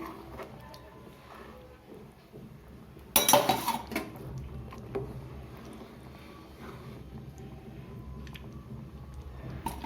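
Fish curry (chepala pulusu) being stirred in a metal pot, with soft scraping and light clinks of a spoon against the pot and one brief louder clatter, all quiet and close.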